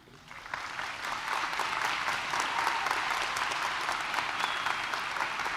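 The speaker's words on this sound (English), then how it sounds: "we could give them a round of applause" Audience applause for high school faculty and staff at a McLoud, Oklahoma graduation ceremony, swelling in after a quiet start and holding as a steady, moderately distant wash of many hands.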